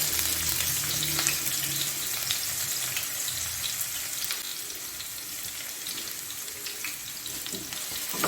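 Ginger and garlic sizzle and fry in a pan, a steady hissing crackle throughout with occasional stirring clinks, close and moderately loud.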